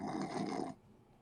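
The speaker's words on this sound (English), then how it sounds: "It's just a little light snore." A soft, breathy snore, light and close, fades out after a moment into near silence.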